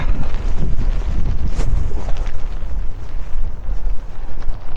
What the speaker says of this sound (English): Hopefully, the wind doesn't get it.